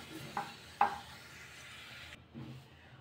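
Raisins frying in a pan for macaroni payasam give a soft, low sizzle broken by two light spoon knocks, then the sound drops away to near quiet with a brief stir near the end.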